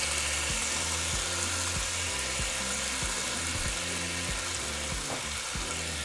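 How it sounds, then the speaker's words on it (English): Potatoes seasoned with all-purpose seasoning fry in hot oil, a dense continuous sizzle with a rhythmic low pulsing underneath, steady and close with no talking. "once our oil is hot, we're going to throw in our potatoes"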